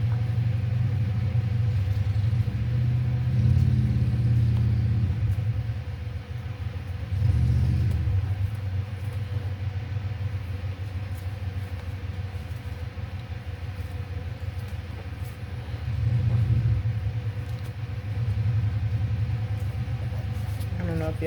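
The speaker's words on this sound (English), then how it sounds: "y'all can hear that motorcycle, but if y'all can, I apologize. It's my neighbors." A neighbor's motorcycle rumbles outside at a distance, a low steady engine drone that swells and eases several times, with faint ambient noise over it.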